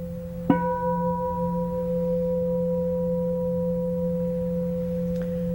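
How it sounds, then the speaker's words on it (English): A meditation gong is struck once, followed by a clear, pure, humming tone that sustains steadily and evenly, with a faint second strike near the end. "Simply allow the gong tones to move through you."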